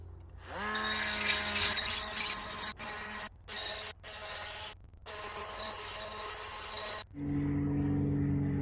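A battery power tool scours rust from a steel narrowboat hull: loud, close abrasive whirring in several bursts with short pauses, then it stops and a steady low hum takes over.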